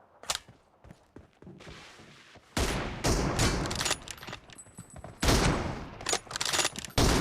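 Gunfire from a competitive team shooter match, with loud bursts of automatic fire and single shots crackling in dense clusters, broken by brief quieter gaps and a few thuds.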